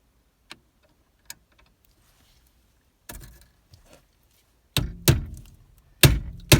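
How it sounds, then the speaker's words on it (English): A Torx bit is hammered into a small hole drilled in a car's shear bolt. Two light taps come first, then a few heavier metallic blows, each sharp and close with short ringing decays. "we're going to tap a Torx bit in there and then see if we can break it loose"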